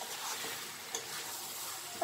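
Garlic frying in oil being stirred in a pan, a faint, steady sizzle with soft scraping, quiet and close, no talking.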